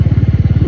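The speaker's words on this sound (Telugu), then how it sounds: "ఏదేమైనా సరే రాయల్ ఎన్ఫీల్డ్ బైక్స్ ఇచ్చే కంఫర్ట్ ఇంకే బైక్స్ అవ్వబ్బా" Royal Enfield motorcycle running on the road, its engine thumping in a steady low pulse of rapid, even beats, close and fairly loud with no talk.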